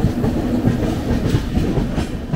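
A passenger train pulls out of Madhupur Junction, its steady close rumble and clattering wheels filling the whole stretch without pause.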